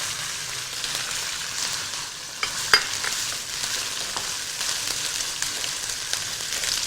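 Crushed green chilies frying in a pan for prawn biryani, a steady soft sizzle with a few clinks from stirring, close and alone.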